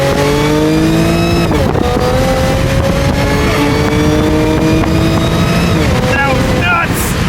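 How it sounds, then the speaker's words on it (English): An Audi accelerating hard from a standstill to 60, engine note rising steadily through several gear shifts with loud wind rush throughout, and no talk. "first 0 to 60 pull in the Audi"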